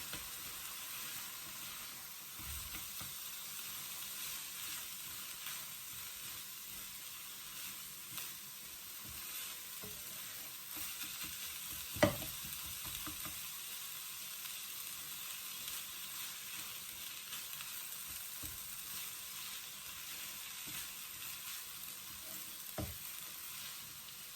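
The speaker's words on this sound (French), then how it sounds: "من بعد ما بدا يتقلى البصل تاعي" Onions frying in a pan for Indian lentil croquettes, a steady soft sizzle throughout with occasional small clicks and one sharp tap, close and fairly quiet.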